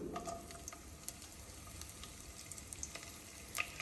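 Green chilies dropped into hot oil, a faint steady sizzle with scattered crackling pops and spits, close and quiet, with no talking.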